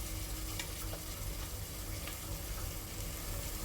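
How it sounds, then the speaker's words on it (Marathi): Carrot, cauliflower, chillies and tomato are sautéed in ghee for spiced rice, giving a faint, even sizzle that runs continuously with soft stirring. "हे सर्व आपण तुपामध्ये परतून घेऊ"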